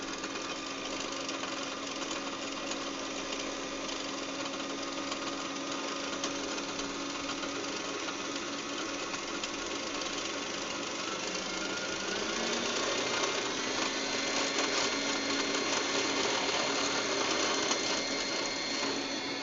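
A sewing machine runs steadily as it winds a bobbin, a close, continuous mechanical whir with a faint rhythmic clatter, shifting slightly in tone toward the end as the bobbin fills.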